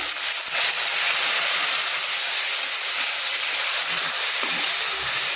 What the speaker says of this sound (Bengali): আলু ধনে পাতা কাঁচা লঙ্কা ভাজা ভাজা হয়ে গেছে আমি এতে একটু জল এড করে দিচ্ছি